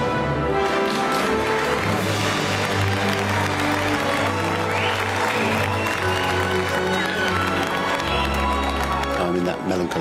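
Diners in a restaurant dining hall applaud chef Marco, steady sustained clapping filling the room for ten seconds beneath a low musical bed, with voices mixed in.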